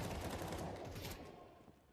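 Rifle fire crackles in quick bursts during a professional Counter-Strike match, a faint, busy exchange of shots that tapers off toward the end.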